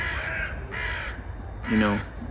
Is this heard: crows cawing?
yes